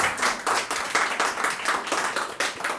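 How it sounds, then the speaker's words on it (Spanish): Applause from a small audience at a Spanish-language panel conversation, with distinct individual hand claps forming an irregular, fairly close patter that runs steadily for a few seconds with no voices over it. "Un fuerte aplauso para los"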